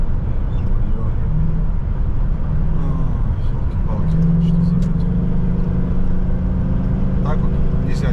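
A Renault Sandero Stepway II driving on a road near a KamAZ truck, with steady loud road and engine noise heard from inside the car and someone talking throughout.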